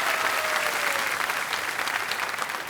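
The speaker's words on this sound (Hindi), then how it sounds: "तालियों के साथ हम आपका अभिनंदन करते हैं।" A studio audience on the KBC game show applauds continuously, a dense, even wash of clapping from many hands with no voices over it.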